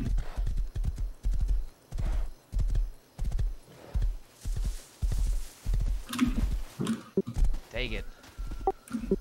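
A horse's hooves clip-clop in a steady walking rhythm, close and loud, with a whinny near the end while someone talks over the sound.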